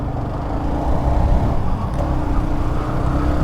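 A Porsche supercar drives past amid Tokyo traffic, a brief close engine and road rush swelling over a steady background of street noise.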